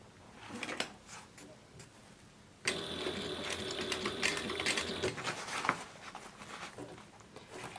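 A sewing machine stitches a fabric book bag, quiet at first, then a loud steady mechanical whir with rapid needle clatter that sets in abruptly and runs on close by to the end.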